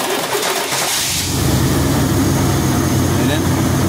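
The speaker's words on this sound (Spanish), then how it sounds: "Miren, el motor se escucha incluso parejo." A Vortec pickup truck engine cranks and catches, then settles into a steady, loud idle that drones on without a break.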